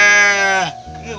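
A sheep gives a loud, close, wavering bleat that breaks off partway through, followed by fainter rustle and murmur.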